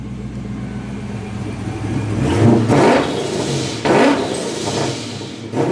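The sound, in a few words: Mustang drift car engine two-step launch control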